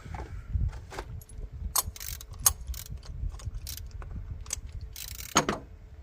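A tool working a plastic oil filter cap on a Jaguar during an oil change, heard as close metallic ratcheting clicks and scrapes in irregular bursts over low background rumble.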